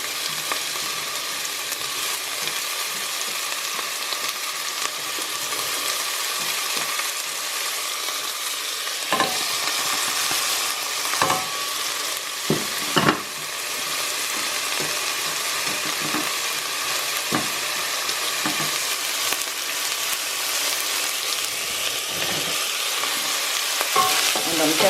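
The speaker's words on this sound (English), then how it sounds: "I'm just going to fry that together." Onions and paprika for a pork stew sizzle steadily in a pan, a continuous close frying hiss broken by occasional scrapes and taps of a spoon stirring them together.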